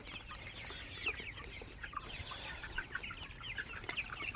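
Tiger chickens, a batch of poultry, cluck and chirp steadily in a busy chorus of overlapping calls, with several birds close by and others farther off, over a low rumbling background and no talk.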